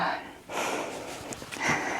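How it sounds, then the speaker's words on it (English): Heavy, rasping breaths are drawn and pushed out through a dust mask close up, with a muffled sniffing quality. "Heavy breathing in a mask"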